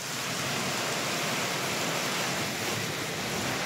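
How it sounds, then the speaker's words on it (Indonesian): Heavy rain pouring over rice fields in Melese village, Ceper, Klaten, Central Java, heard as a steady, dense broadband hiss that continues without a break from start to finish, with no voices. "Hujan deras di Klaten sejak kemarin sore hingga malam menerjang area persawahan Desa Melese"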